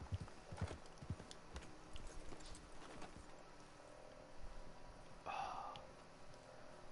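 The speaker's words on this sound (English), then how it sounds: "is that a horse?" Horse hooves clip-clop in a video game, a quiet, uneven run of hoofbeats over soft ambient game noise, with a brief brighter burst of sound near the end.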